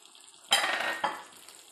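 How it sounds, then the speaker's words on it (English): Fried momos being sautéed in gravy in a pan: a sudden burst of loud sizzling that fades, followed by a second, smaller sizzle surge as the food is stirred. "And just you have to saute it for 1 to 2 minutes."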